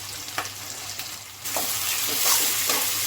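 Cumin and black cumin seeds sizzle in hot oil for a cabbage dum aloo, a soft, continuous crackling hiss that swells louder midway, with a few faint stirring scrapes.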